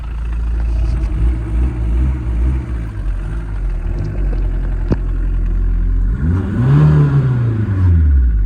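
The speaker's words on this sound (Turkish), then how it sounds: "Sonra marşa basıyoruz." A Tofaş car fitted with a diesel Audi engine runs loudly, with a rough, clattering idle followed by a rising rev that swells and falls back.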